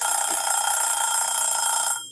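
A buzzer sounds during a live tarot stream, one loud steady electronic tone that holds for about two seconds and then cuts off.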